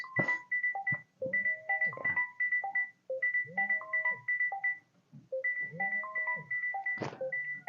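A phone ringtone plays a bright, repeating electronic melody of short tonal notes in bursts, loud and close, with brief pauses between phrases and no talk over it.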